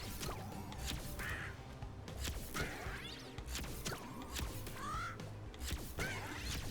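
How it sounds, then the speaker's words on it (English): Enemy creatures in Crash Bandicoot 4 give out short bird-like squawks and caws, several scattered calls over game thuds and whooshes, moderately loud with no talking. "these guys make the same noises as the birds in Crash 1"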